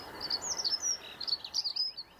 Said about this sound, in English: the air is filled with the sound of beautiful spring bird song. Chiff chaff and these dunnocks at the moment.